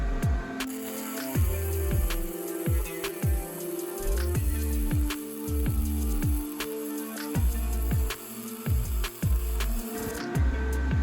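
A VEVOR 200 amp MIG welder runs at 145 amps on 1/4 inch material, giving a steady, loud, crackling sizzle with irregular pops and short surges across about eleven seconds, with no talking.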